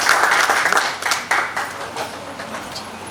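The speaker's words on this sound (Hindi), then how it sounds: "एक बार उनकी भी जोरदार तालियां।" A seminar audience claps briefly after a call to honour the district president, with a few bursts of clapping that thin out and fade.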